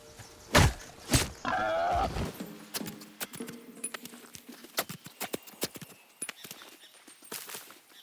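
Horse hooves clip-clop in the video game Nightingale, starting with a few heavy thuds and a whinny, then settling into a steady, close walking rhythm.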